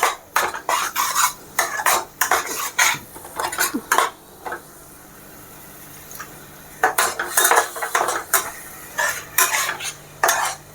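Masala and tomatoes stirred in a pan for chole, with repeated bursts of utensil scraping and clinking against the pan, a quiet pause midway, then more stirring, all close and without speech.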